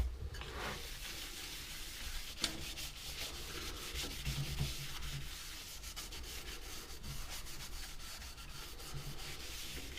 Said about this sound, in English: just apply some sanding sealer